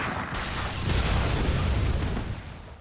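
Urns being shot and bursting in the game Bloodborne, a single loud, sustained rumbling explosion that swells and then fades over a couple of seconds.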